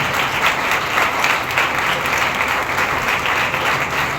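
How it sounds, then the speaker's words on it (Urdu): A church congregation at a Sunday service claps loudly together, a dense, sustained wash of many hands that stays strong and even throughout, with no speech over it. "آئیے ذرا زوردار تالیاں بجائیں خدا کے جلال میں"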